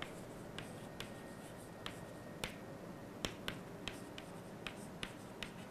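Chalk or pen tapping and scratching while equations are written during a control-systems lecture, a series of faint sharp ticks at an uneven rhythm against low room hiss.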